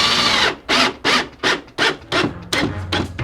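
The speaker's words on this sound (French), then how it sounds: "Et on visse." A screw is driven into a wooden frame for a boilie drying sieve, heard as a rhythmic series of about eight close, rasping turns with short pauses between strokes.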